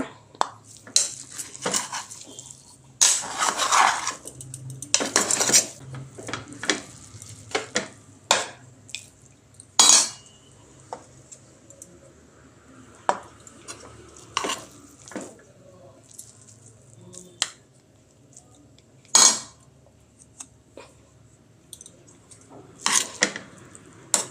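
Cutlery and dishes clink and clatter in sharp, irregular bursts while bachelor-style biryani is plated, with occasional light water sounds in the background and no talking.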